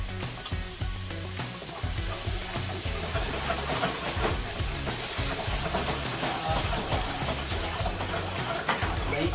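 Curd poured into hot cooked masala for creamy soya chaap sizzles loudly, a dense hiss that holds steady from start to finish.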